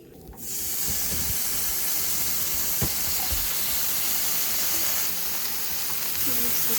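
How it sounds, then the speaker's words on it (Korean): Steady hiss of rain pouring onto an apartment balcony during a cookout, a dense even wash of drops that holds throughout, with a faint thud or two underneath. "비가 너무 오는데?"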